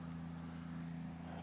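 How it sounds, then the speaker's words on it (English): A steady, low engine drone of a ride-on lawn mower hums throughout at moderate distance in botanical gardens, even and unbroken. "it's one of the ground staff on a ride-on mower"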